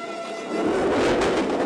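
A train rushes past close by with a loud, swelling rumble and rattle, growing louder halfway through and staying heavy to the end.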